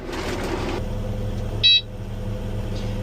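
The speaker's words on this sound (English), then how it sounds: "That beep is loud." A single short, high electronic warning beep from an excavator sounds once over a low, steady engine rumble.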